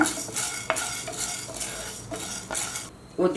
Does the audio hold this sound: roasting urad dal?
yes